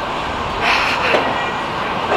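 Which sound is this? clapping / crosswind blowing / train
train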